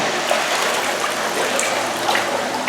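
A Kohler whirlpool tub starts up with a loud, steady rush and gurgle of water and air forced out through the jets, close by and continuous.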